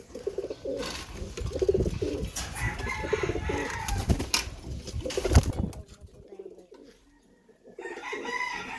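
Pet pigeons coo and call nearby in a steady, overlapping chorus, with scattered rustling and handling noises. The calls thin out briefly near the end, then return.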